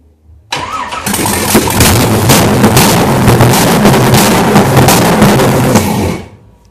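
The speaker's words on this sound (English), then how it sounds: "Get your hand on the throttle, Lucas." A small-block Chevy V8 fitted in an MGB V8 cranks and catches, then runs loud and close with steady revving and throttle blips for several seconds before shutting off.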